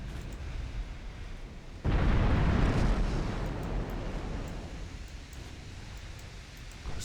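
A hostile ship sinks in the naval game Ultimate Admiral Dreadnoughts, heard as a sudden loud rumbling burst of broadband noise that swells and then slowly fades into a lingering roar, with no talking.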